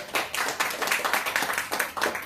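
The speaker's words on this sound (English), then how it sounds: "A big round of applause to the speaker" Audience at a Toastmasters meeting claps for a speaker, a close, steady patter of many hands over about two seconds with slight swells in intensity.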